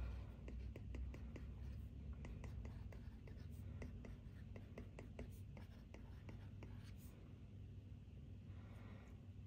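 A stylus writing on a tablet in Goodnotes 6, a series of quiet rapid taps and short strokes in quick bursts, faint and close over a low steady background hum.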